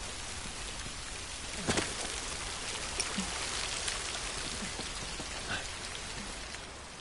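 Steady rain pours as a dense, even hiss of drops on surfaces, with a few slightly louder splashes, constant and fairly quiet, no voices.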